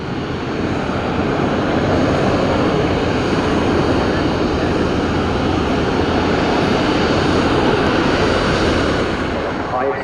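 An AH-64E Apache helicopter flying at the Duxford summer airshow, a loud, steady, broadband engine and rotor roar that holds constant throughout without any break.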